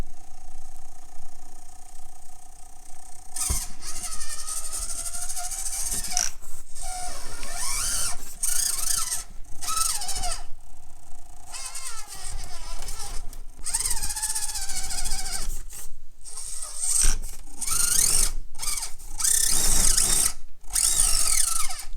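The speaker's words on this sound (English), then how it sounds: "Now it's got the brushless motor in there." Brushless motor in a Furitek 2S RC car whining and revving in repeated bursts, with high-pitched electric whirs rising and falling close by, no talking.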